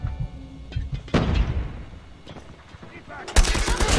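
A player fires from behind in an online shooter game, bursts of gunfire cracking out twice, the second louder and sharper, with a voice talking faintly in between.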